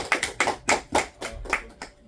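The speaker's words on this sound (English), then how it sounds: "let's get a round of applause" A small festival audience gives a brief round of clapping at a folklore festival launch, with about seven distinct bursts of hand claps in a loose, uneven rhythm, fairly close and moderately loud.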